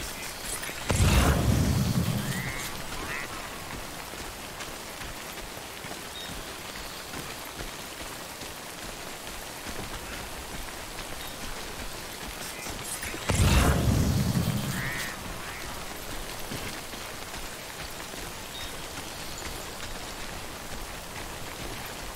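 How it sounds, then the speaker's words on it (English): Rain falls in a video game as a continuous wash of patter. Two deep booming swells rise out of it several seconds apart, like distant thunder, and no one speaks. "I'm nervous about the rain."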